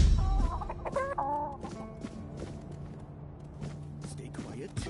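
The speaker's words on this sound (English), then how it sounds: "Bloody seagulls!" Seagulls in the video game Tainted Grail: The Fall of Avalon, set at a seaside keep, cry out in a few shrill bursts near the start, followed by fainter calls over a low ambient bed.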